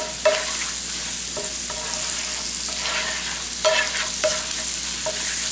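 Chicken pot pie filling with garlic and bouillon granules sizzles steadily in a pan, with a spoon scraping and stirring in intermittent clicks close up and no voices.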